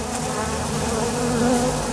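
Honeybees beat their wings in a close, continuous buzzing drone that stays loud and steady from start to finish, with no voices.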